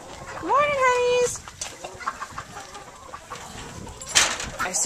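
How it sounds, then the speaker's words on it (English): Hens and roosters inside a backyard chicken coop give a loud drawn-out call, then scattered clucks and scuffling follow, with quieter noises and occasional sharp knocks nearby. "I have my hens and roosters in here."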